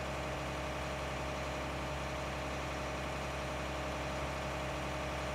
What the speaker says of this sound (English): this tractor shouldn't have any problem pulling this forage wagon up the hill